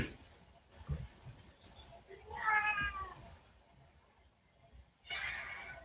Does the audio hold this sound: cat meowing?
yes